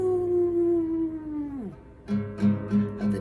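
A human voice imitates a wolf howl, a long sustained wavering tone that slides downward, followed by several shorter rising yelps, close and fairly loud with no other talk.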